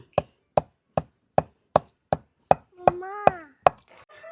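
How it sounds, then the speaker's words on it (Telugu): Cumin seeds are pounded for gongura chutney with prawn shells, heard as about ten evenly spaced, sharp knocks from a hand pounder, close and loud, with a brief squeaky whine near the end. "జీలకర్ర వేసుకుందాం అండి కొంచెం నూరుకుందాం"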